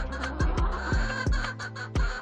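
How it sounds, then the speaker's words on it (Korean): Hens shut inside a coop squawk and cluck repeatedly to be let out, a series of sharp close calls over a steady low background, with no talking. "닭장 안의 암탉들은 밖으로 나오고 싶어서 소리를 지르고 있다"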